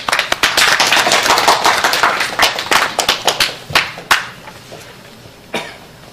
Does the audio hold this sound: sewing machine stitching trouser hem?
no